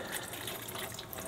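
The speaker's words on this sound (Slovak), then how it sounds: "A vodička už nám ide, takže to bola rýchlovka." Water runs steadily into a caravan's water system, a constant hissing rush with no break and no voices.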